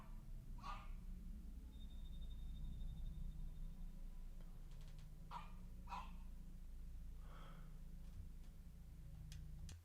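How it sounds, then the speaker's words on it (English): A dog barks several times in the distance, faint, scattered single barks over a low, steady background hum. "That's a dog barking."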